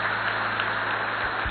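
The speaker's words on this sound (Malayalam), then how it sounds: "അന്നക്ക് നല്ലൊരു കയ്യടി കൊടുത്തേ." A church audience gives Anna a round of applause, a steady, moderately loud wash of many hands clapping throughout.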